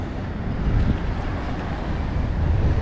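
Strong wind roars steadily across the microphone, a dense, gusting rush with a low buffeting rumble throughout.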